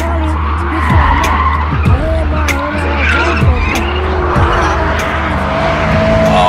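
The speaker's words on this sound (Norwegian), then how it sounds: "en fantastisk motor med kompressor" Supercharged Ford GT engine on the Rudskogen race track, loud and continuous with rising and falling revs, repeated shifts and tire squeal or skidding through corners.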